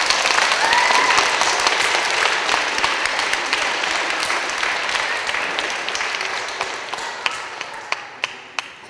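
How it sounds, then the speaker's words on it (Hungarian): Children applaud after a puppet show by a kindergarten puppet group, a loud burst of many small hands clapping that slowly thins and fades into scattered, separate claps. "Egy nagy tapssal ugye ti is megköszönitek neki."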